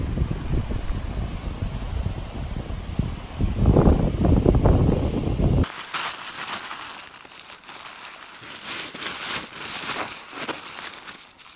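Strong wind batters a Zpacks Duplex tent pitched low to the ground, with heavy rumbling gusts at first, then lighter fabric flapping and crinkling in irregular bursts.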